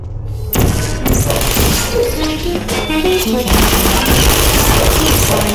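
Bursts of gunfire and heavy thuds ring out across a live fire course for military androids in the game Portal, dense overlapping shots and booms continuing loudly for several seconds.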